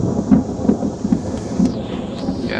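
Thunder rolls through a severe summer thunderstorm, deep rumbles swelling and fading in several pulses over steady rain, loud and fairly near.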